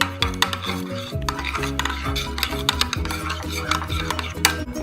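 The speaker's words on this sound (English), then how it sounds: "Then this looks like that, and you're gonna be mixing it." A shaving cream mixture is stirred briskly in a container, giving a continuous, close scraping and swishing with clinking strokes over a steady tonal hum in the background.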